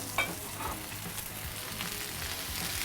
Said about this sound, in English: Right here, we're going to grill up some onions.